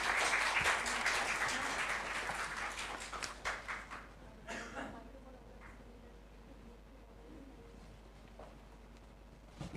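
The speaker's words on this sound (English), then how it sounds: "Could we have a round of applause?" Applause from an audience fills the opening seconds, dense and steady, then thins into scattered claps and fades, leaving a quiet room with faint murmuring.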